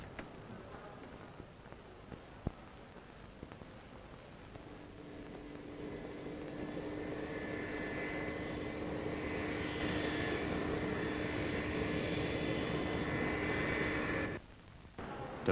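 A fixed-wing airplane engine drones steadily from a distance, swells louder toward the middle and then holds, with no voices over it.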